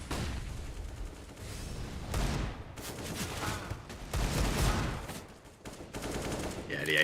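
AK rifle gunfire on the Inferno map of Counter-Strike during an esports match, with repeated rapid bursts and volleys that swell and fade over several seconds.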